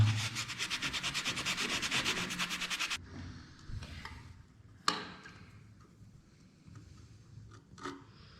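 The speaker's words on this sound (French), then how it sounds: "Et avec une éponge classique, on gratte." A sponge rubbing across freshly laid tile grout on a floor of tiles over PVC vinyl makes about three seconds of fast rhythmic scraping strokes, then quieter occasional scuffs and a sharp knock, close and faint.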